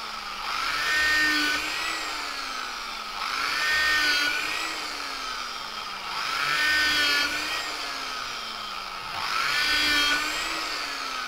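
A small electric drill with a 1.5–2 mm bit whines in repeated bursts, rising and falling roughly every three seconds as it bores through a leather knife sheath, close and steady with no talking.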